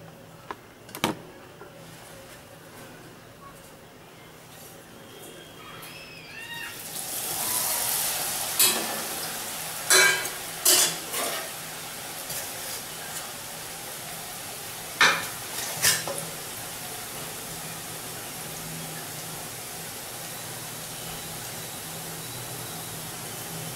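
Balls of seedai dough drop into hot oil and fry, a broad sizzle rising after a quiet start, punctuated by sharp clinks and taps of utensils against the pan, with no voices.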